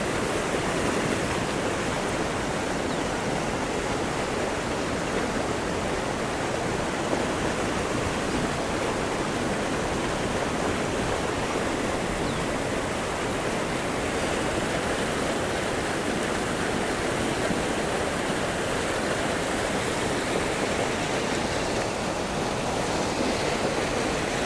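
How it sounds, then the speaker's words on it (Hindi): The Godavari river rushes over a rubber dam at Ram Ghat in Nashik in a dense, steady roar of falling water that runs loud and unbroken throughout, with no voices. "उससे किस तरह से ये माँ गोदावरी का पानी जल आ रहा है।"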